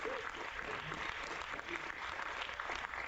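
Steady, soft applause from an audience at a company presentation, sustained and fairly distant with no voices over it.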